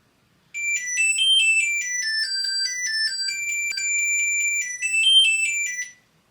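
A Switchbot wallet card finder rings, playing a bright electronic chime melody of rapid stepping high tones, clear and close, for about five seconds before stopping.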